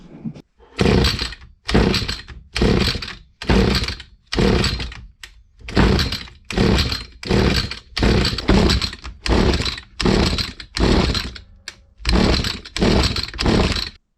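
A Stihl FS86 strimmer with a faulty Walbro carburettor being pull-started, loud repeated bursts of engine sound about once a second, each cutting out in short gaps, close by with no talking.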